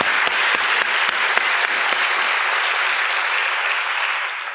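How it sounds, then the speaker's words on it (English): Audience applause for a group of students at a State of the City event, a steady crowd clapping with a few sharp individual claps early on, holding loud throughout and easing slightly at the end. "Please a round of applause to these students"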